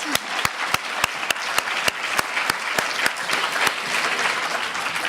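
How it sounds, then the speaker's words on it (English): A seminar audience claps warmly for the speakers, with sharp, evenly spaced claps from one nearby pair of hands standing out over the general applause. "could we have a strong applaud to our speakers?"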